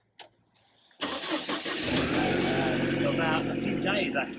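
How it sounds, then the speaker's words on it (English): A Mercedes SLK with a newly fitted battery cranks and fires up about a second in, then settles into a loud, steady idle close by while someone talks over it. "I'm going to start up the car."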